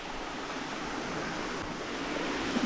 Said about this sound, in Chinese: 这旁边就一个小溪流